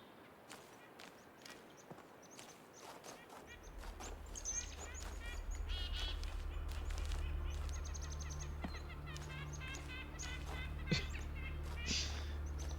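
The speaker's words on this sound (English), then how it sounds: "The birds sound like they're laughing at me." Birds call in an outdoor area of the video game The Talos Principle II, repeated chirping and cackling calls over footsteps and a low ambient hum, moderately close and fairly quiet.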